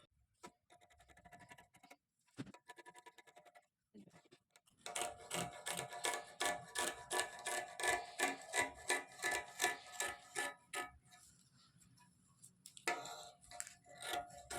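Scissors cut lining fabric for a churidar dress, a close run of rhythmic crisp snips after a few softer rustles and pauses of handling.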